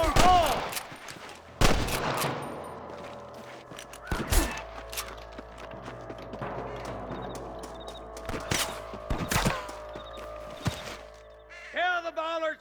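Sniper gunfire in Red Dead Redemption, sharp rifle cracks ringing out singly and in pairs at irregular intervals, some near and loud, with gun mechanisms clicking between shots and voices shouting briefly.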